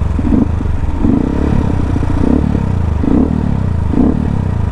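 Yamaha WR motorcycle with a stock 58 engine and lowered compression, its exhaust roaring loudly and continuously at high revs under full throttle, with rhythmic pulsing swells, close to the microphone and without talk.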